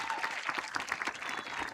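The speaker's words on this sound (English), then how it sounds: "let's give a round of applause for that" Audience at a high school graduation ceremony applauds steadily, with dense clapping from a large crowd heard at moderate distance throughout.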